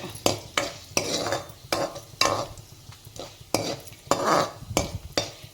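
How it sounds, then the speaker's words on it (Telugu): Dried red chillies frying in a pan while being stirred, a spoon scraping the metal in regular strokes about twice a second over a light sizzle, close and without talk. "ఎండు మిరపకాయలు కూడా వేసేసి వేసుకుందాం చూస్తున్నారా ఇలాగా వేచుతున్నాను"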